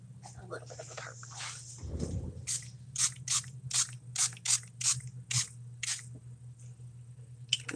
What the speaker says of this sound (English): I'm going to add a little bit of spray to it, a little bit of color on top